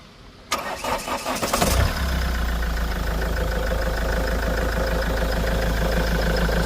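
A 2014 Mahindra XUV500 W8 engine cranks briefly, catches, and settles into a steady, close idle rumble that continues evenly.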